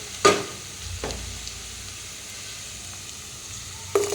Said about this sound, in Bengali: ফোড়নের সঙ্গে আমি পেঁয়াজটাকে খুব ভালো করে ভেজে নেব